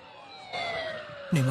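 A police car siren sounds in the distance, its wailing tone audible under background noise, then a louder burst near the end as the siren comes closer.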